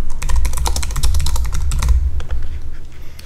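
Steady rapid keystrokes on a computer keyboard while building a ServiceNow Service Portal widget, loud and close with a dense clicking rhythm that thins out toward the end, no voices.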